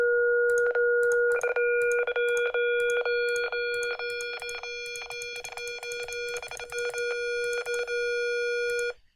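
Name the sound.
synthesized square wave approximated by sine terms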